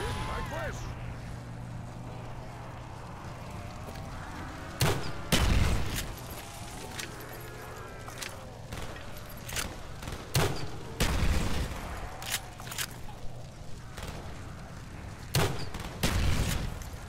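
Rapid bursts of G11 rifle gunfire in a Call of Duty Black Ops zombies match, sharp loud volleys recurring every second or two over a steady low game drone, with players talking throughout.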